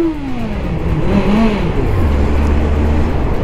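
A motorcycle engine revs up, its pitch climbing and wavering as it bounces against the rev limiter, then drops back to a low rumbling idle, loud and close.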